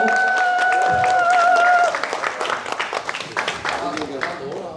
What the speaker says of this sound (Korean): 의장님께 감사 박수 한번 보내주세요